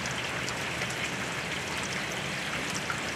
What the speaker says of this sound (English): All right, Mr. Turtle, I got to go in and out of the rain.